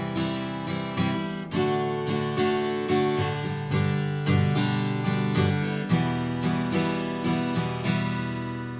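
Acoustic guitar strumming the verse chords of a song in a bright, driving pattern, with chord changes and steady strokes heard up close and alone.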